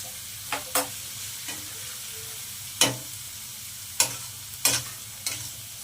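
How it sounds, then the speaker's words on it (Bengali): Onions frying in a pan with a little salt, a soft steady sizzle with several sharp stirring scrapes spaced a second or so apart, close. "পেঁয়াজটাকে আমি ভালো করে একটু লাল লাল করে ভেজে নিচ্ছি"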